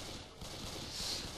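Machine gun fire in Left 4 Dead 2 roars as a dense, continuous burst at full volume, loud and close.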